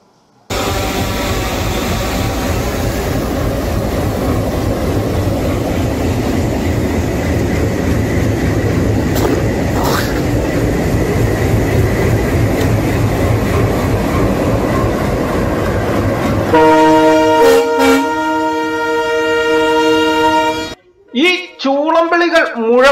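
A train on a high-speed trial run over the Madurai–Theni rail line rumbles steadily and loudly up close for most of the span, then sounds its horn in long blasts before a final clipped toot.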